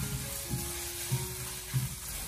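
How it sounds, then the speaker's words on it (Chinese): Minced pork stir-frying over low heat in a lightly oiled wok, a soft, quiet sizzle with gentle spatula stirs pulsing roughly every half second, close and unaccompanied by talk. "把剁好的肉末给它放进锅里面，开小火给它翻炒一下，把肉末炒散，炒至变色"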